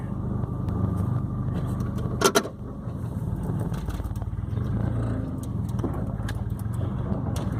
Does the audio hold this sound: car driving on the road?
yes